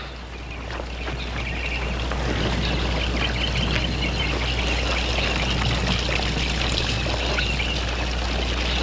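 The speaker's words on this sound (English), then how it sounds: "Fill up the water bags." Water pours and splashes steadily as water bags are filled outdoors, a continuous close rushing trickle over a low constant hum, with no talking.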